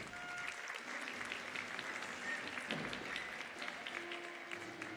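Strong applause at a regional final award ceremony in Panama, a dense continuous clapping from a sizeable audience, with a brief tonal hum or voice fragment showing through in places.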